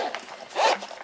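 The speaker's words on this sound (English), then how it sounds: "There's the zipper." A zipper on the carrying case of a HiFi Walker H2 music player is drawn, giving a short close rasp with a louder burst midway, alone without talk.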